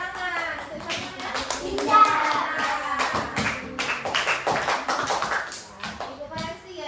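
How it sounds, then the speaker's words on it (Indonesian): Children clapping hands in a classroom, a brisk run of loud scattered claps lasting several seconds, close by and mixed with children's voices. "Iya, tepuk tangan."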